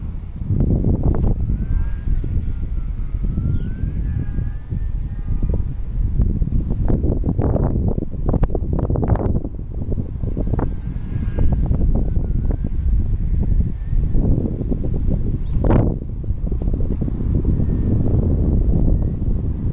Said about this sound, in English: that wind is tough